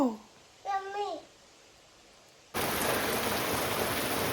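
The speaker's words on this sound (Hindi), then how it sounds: "बहुत तेज़ बारिश हो रही है मनाली में" Heavy rain suddenly pours down at night in Manali, a steady, dense hiss after a brief quiet stretch, preceded by a few short vocal sounds from a nearby voice.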